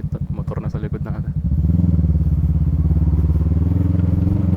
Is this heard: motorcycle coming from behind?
yes